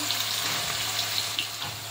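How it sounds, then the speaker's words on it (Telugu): Onions and green chillies fry in oil with masala for Telangana-style mutton keema curry, giving a steady, soft, hissing sizzle with faint crackles throughout. "ఆయిల్ మసాలా కొంచెం ఫ్రై అవ్వగానే ఆనియన్స్, పచ్చిమిర్చి ఆనియన్స్ కలిపి వేసుకోవాలి. వేసి ఇది కొంచెం బ్రౌన్ కలర్ వచ్చే వరకు ఫ్రై చేసుకోవాలి."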